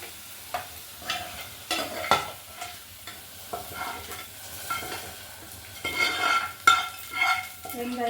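Onions sauté in a pan for kuzhambu, with repeated stirring scrapes and metal clinks over a low sizzle, some strokes louder and closer than others.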